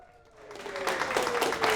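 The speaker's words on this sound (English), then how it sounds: "I said hello and then the applause just died down." Applause from a stand-up comedy audience swells from a quiet start into steady, fairly close clapping that builds and holds for under two seconds.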